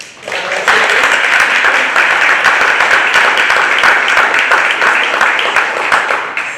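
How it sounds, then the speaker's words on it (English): An audience at a panel discussion breaks into sustained applause, many hands clapping densely and evenly at close range for several seconds before tapering slightly. "So if you guys can just join me in a round of applause."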